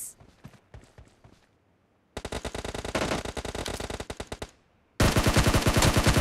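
Automatic weapon fire in PUBG Mobile's domination mode, with a few scattered shots at first, then two long, loud rapid bursts of machine-gun fire separated by a short pause.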